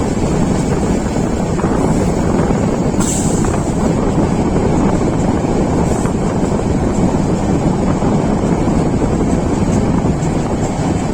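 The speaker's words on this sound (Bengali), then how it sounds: "Akhaura railway station." The Sonar Bangla Express intercity train at Akhaura railway station gives a steady, loud, broadband roar of rolling wheels and wind rush throughout, with a couple of faint high squeals and no talk.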